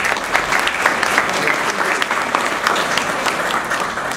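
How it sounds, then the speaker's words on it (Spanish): Steady, dense applause from a seated audience at a corporate mining presentation, moderately loud and continuous throughout with no talk over it. "Un aplauso, por favor."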